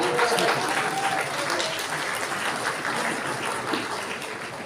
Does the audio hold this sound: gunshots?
no